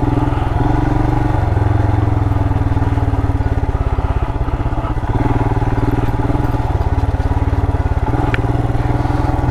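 A Royal Enfield Himalayan motorcycle rides slowly along a muddy off-road trail at Bobblet's Gap, its single-cylinder engine thumping loudly and steadily close by with a rapid, even pulse and some clatter, with no talking.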